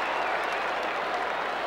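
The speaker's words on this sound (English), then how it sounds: "the Essendon supporters are giving begrudging applause now" Essendon supporters giving begrudging applause at the 1989 VFL Preliminary Final against Geelong: a dense, distant stadium crowd of clapping and murmur, steady and loud throughout with no break.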